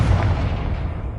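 A Confringo blasting spell explodes in Hogwarts Legacy, a loud continuous booming blast with heavy low rumble that sustains for the whole brief moment.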